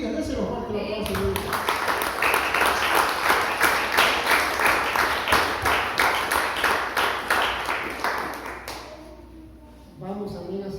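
A church congregation claps loudly and steadily for several seconds at a worship service, the applause fading out before a voice resumes speaking.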